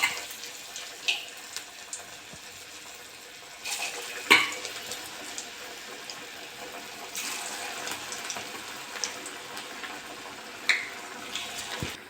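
Drumstick flower chops fry in oil with a continuous, fairly quiet bubbling hiss, broken by occasional clatters and scrapes of a utensil in the pan and a few louder splashes.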